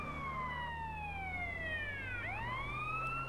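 An ambulance siren in GTA San Andreas wails in long falling and rising sweeps, steady and prominent over a low engine hum, with no talk.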